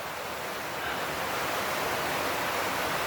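Steady rain falling in Jimalalud, Negros Oriental, Philippines, a dense, even hiss that holds constant throughout with no talk.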